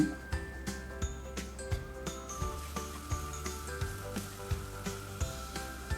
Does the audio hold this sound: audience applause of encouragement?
no